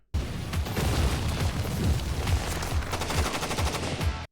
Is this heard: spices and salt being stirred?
no